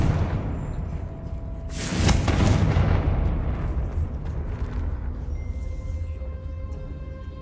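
Confringo spell blast in Hogwarts Legacy: a loud booming explosion about two seconds in that rolls and decays over several seconds, with faint tonal game effects lingering afterward, no speech.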